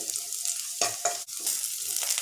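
Ginger and garlic frying in oil sizzle steadily while a utensil stirs them, giving two or three sharp scraping swishes over the continuous hiss, close and with no talking.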